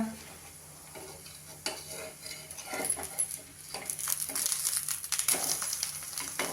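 A coriander-leaf thalipeeth is turned over in a hot pan on a medium gas flame, giving a scrape and clatter of the spatula against the pan, then a bright, swelling sizzle with more scraping.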